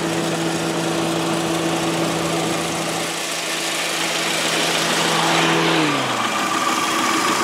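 A 2005 Subaru Outback's boxer engine idles steadily with a low, even hum and a faint mechanical whine that drops away near the end.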